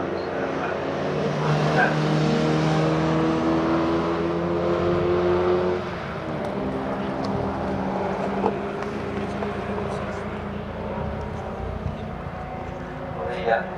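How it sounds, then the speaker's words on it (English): MG race cars in the MGOC Championship at Oulton Park circuit roar past on track, a loud sustained engine drone that eases after a few seconds, with a commentator talking over the sound. "So there's 4 cars going down towards Ireland."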